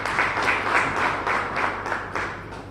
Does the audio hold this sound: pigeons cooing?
no